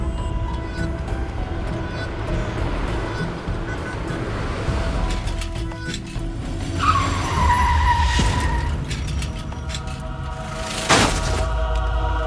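In a Hindi television comedy scene, a car's tyres screech in a long skid over continuous noise, and a sharp crash of impact follows near the end.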